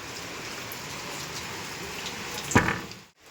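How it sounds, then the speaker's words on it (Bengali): Soft, steady rain falls outside a window, making a faint, even hiss. A single brief knock sounds near the end, with no talking. "এখন জানলার কাছে বসে আছি বাইরে বৃষ্টি হচ্ছে"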